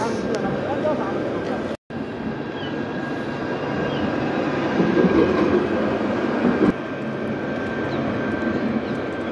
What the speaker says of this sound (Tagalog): Yan yung tren nila nasa baba.